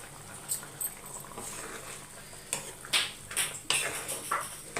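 Chow chow kootu bubbles softly in a pot on the stove, a faint simmer broken by a few sharp clinks of a metal utensil against the vessel.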